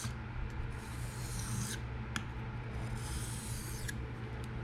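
A Kunwu Chad knife is freehand sharpened with forward passes, each stroke a rasping scrape in an even rhythm, close and fairly quiet.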